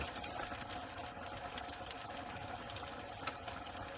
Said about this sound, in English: while our chicken is frying